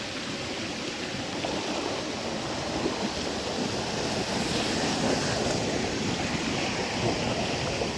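Water flows in a natural stream in Thai countryside: a steady, broad rushing and gurgling wash, fairly close and continuous throughout, with no voices over it.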